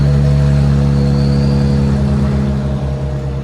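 A 2017 Mercedes C43 with a 3.0-litre twin-turbo V6, downpipes and a Wesgate Cat-B exhaust rumbles at a loud, steady idle, a deep continuous drone close by with no talk.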